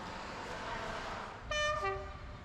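A Regio Călători passenger train at a station platform bound for Bucharest North, with steady rumble of rolling stock and a brief two-note horn blast near the end.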